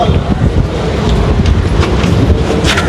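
Wind blows at an evening fish market on an island, a loud, continuous rushing roar buffeting the microphone throughout.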